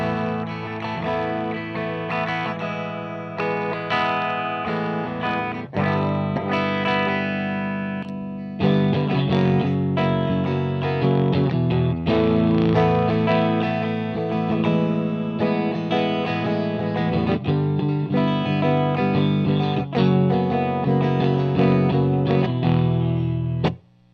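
A Marshall JCM800 2205 split-channel amp on its clean channel carries an electric guitar playing steady chords and melodic lines, close and loud throughout with a brief break near the middle, without reverb.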